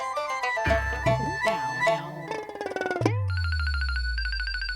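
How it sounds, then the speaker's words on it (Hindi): A phone rings on an outgoing call to a friend, a bright electronic ringing tone that starts after some melodic musical tones and holds steady and fairly loud to the end. "मैं गुनगुन को फोन करती हूँ"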